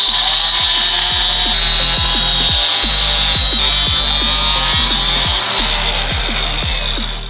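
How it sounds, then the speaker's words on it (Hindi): A grinder cuts through the metal frame around a giant candle mould, a loud continuous high whine with a steady rhythmic thumping underneath, close by and with no talk. "ग्राइंडर लाओ, काटते हैं।"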